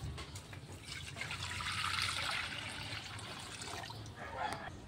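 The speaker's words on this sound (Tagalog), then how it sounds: "So ilalagay natin itong padalawang gata." Second-press coconut milk being poured into a hot pan in a home kitchen, a steady liquid pouring and trickling sound lasting several seconds, close and fairly soft.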